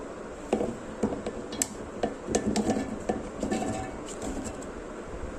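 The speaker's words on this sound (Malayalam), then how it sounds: "മിക്സിയുടെ ജാറിലേക്ക് നമുക്ക് ഇതൊന്ന് ഇട്ട് കൊടുക്കാം." Chopped raw green mango pieces dropped into a mixer grinder jar, a series of close hard clatters and clinks, some rapid and some single, with no voice.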